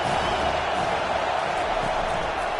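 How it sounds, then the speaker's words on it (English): A college football stadium crowd at Louisville vs Notre Dame in the College Football 25 video game gives off a steady, dense roar that holds evenly loud throughout with no distinct cheers standing out. "This crowd bringing the energy and noise early."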